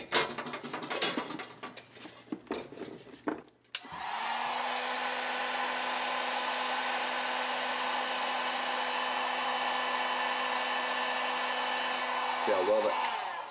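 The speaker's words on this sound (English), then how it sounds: "Now we're just going to hit that with our heat gun and let that open up." A heat gun blows hot air onto EVA foam armor pieces. Brief handling clatter comes first, then a steady, loud whirring roar with a faint tone that runs unbroken for about ten seconds.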